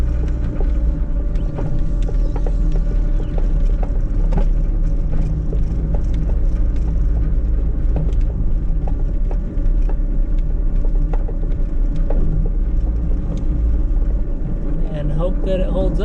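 An MK1 VW Caddy on the road on a shakedown drive after years off, its engine giving a steady loud low rumble with mechanical rattles and clunks throughout, continuous for the whole stretch.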